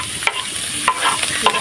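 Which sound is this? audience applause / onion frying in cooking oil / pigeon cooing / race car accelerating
onion frying in cooking oil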